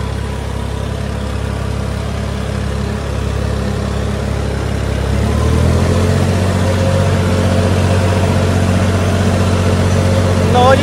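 A Massey Ferguson 9500 Smart 4WD tractor runs in a wet field as land is prepared for potatoes, its diesel engine a steady low drone that thickens and grows slightly louder partway through, with no talk over it.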